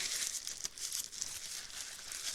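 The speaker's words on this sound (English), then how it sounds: "Dry them off with a paper towel." Steady crinkling and rustling of a paper towel rubbed and crumpled up close while drying wet metal strips, continuous for a couple of seconds with no talking.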